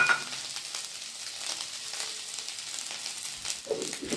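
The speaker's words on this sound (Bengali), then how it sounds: "আদা বাটা দিয়ে এটা আমি একটু ভেজে নেব সুন্দর করে।" Soybean chunks frying in ghee with ginger paste, a bright continuous sizzle with occasional stirring scrapes, close and steady, no voices.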